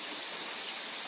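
Rain falling during a cold, windy visit, a steady close hiss of drops that stays even for the whole short stretch with no voices.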